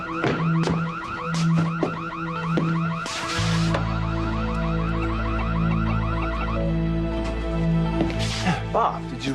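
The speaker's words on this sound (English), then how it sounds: "did you respond to the alarm going off? No, I set it off." A car alarm blares nearby in a repeating cycle of whooping, warbling siren tones, shifting pattern partway through, steady and loud throughout.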